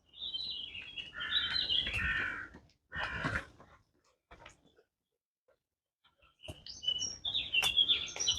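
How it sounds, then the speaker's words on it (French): Birds chirp and twitter outdoors in bursts of high, close calls, with a short gap of near silence in the middle before the chirping returns. "J'ai même les oiseaux qui me répondent en plus."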